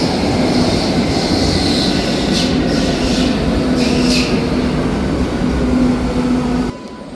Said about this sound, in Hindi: और ये हमारी ट्रेन आ चुकी है।